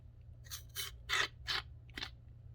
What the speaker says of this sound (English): I'll use my brass brush and I'll clean that